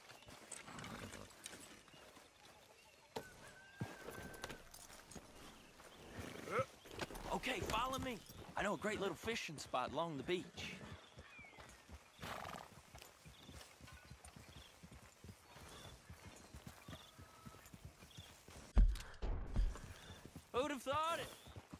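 Horse hooves clip-clop at a steady walk in Red Dead Redemption 2, mixed with tack jingle and a brief whinny, while characters talk over the rhythmic footfalls.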